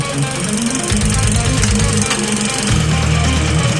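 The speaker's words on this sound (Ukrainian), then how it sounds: "Розпочали ми буріння малогабаритною буровою установкою під 125 трубу." A small drilling rig bores a 125 mm filter well through clay in a Ukrainian village, giving a loud, close, rhythmic mechanical knocking and engine drone that shifts in pitch and intensity as the drilling load changes.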